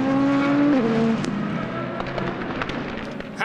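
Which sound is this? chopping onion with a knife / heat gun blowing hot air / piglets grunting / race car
race car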